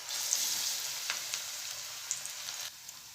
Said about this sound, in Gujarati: તો બીજા પકોડાને પણ આ રીતે આપણે તળી લઈશું.